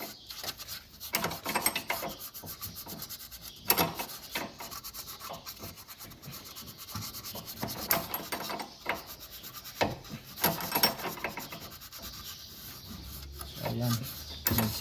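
A bolt is being loosened and removed from a car's suspension arm during a suspension arm and stabilizer linkage replacement, giving steady metallic rubbing and rasping turns with intermittent clicks, close up and moderately quiet throughout.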